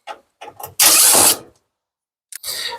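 Screws being backed out of the front panel of a Samsung dryer, with mechanical ratcheting and scraping in a few short bursts and one loud sustained grinding stretch, close up.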